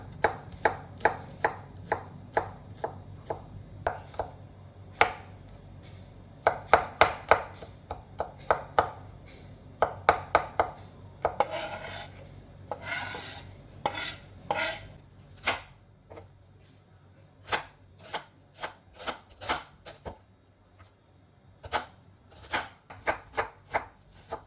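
Repeated knife chops on a cutting board, sharp close thuds in irregular bursts and runs, cutting through onion and garlic with brief pauses between.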